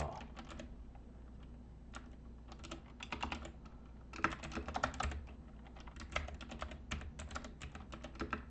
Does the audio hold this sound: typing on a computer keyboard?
yes